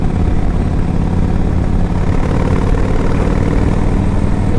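A 2005 Yamaha Road Star 1700cc motorcycle engine runs with a loud, deep, continuous rumble, close and steady throughout with no talking.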